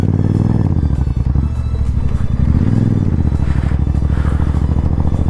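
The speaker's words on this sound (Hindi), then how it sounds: "आज भी हम सुबह से ही बाइक चला रहे हैं" A motorcycle rides along steadily with a loud, close engine drone whose pitch dips and rises as the rider eases off and accelerates, with some light rattling and no talk.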